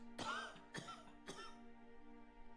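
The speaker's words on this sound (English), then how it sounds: "Just coughing your COVID all over everyone" A character in the video game Mass Effect 3 coughs three times in close, harsh bursts, then goes quiet over a low steady background hum.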